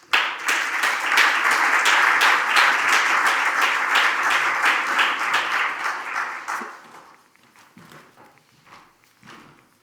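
Audience applause at a public works magazine presentation, a lively burst of many people clapping that stays full for about six seconds, then thins out into a few scattered claps and fades.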